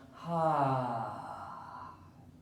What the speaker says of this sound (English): Take a deep breath in with me